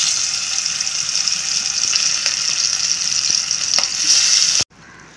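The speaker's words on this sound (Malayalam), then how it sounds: "നമുക്ക് ചിക്കൻ ഒന്ന് ഫ്രൈ ചെയ്തെടുക്കണം." Chicken pieces fry in Sunrich oil in a pan, giving a loud, dense, continuous sizzle with a few faint clinks, then cutting off abruptly just before the end.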